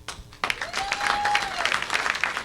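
Audience applause at a comedy show, breaking out after a short pause as the crowd answers a show-of-hands question, a brief spread of claps with a faint tonal whistle running through it.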